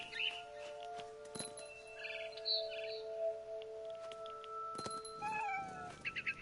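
A cat meows in What Remains of Edith Finch, with a few drawn-out calls and short chirpy bird-like notes spread across a quiet game ambience, ending in a quick run of brief sounds.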